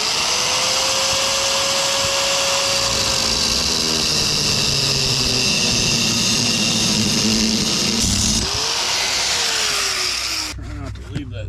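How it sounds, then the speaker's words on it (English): An angle grinder cuts through a metal body panel on a Nissan 300ZX, a loud continuous high whine with shifting pitch as the disc bites, stopping abruptly near the end. "Grab our grinder, let's chop this thing."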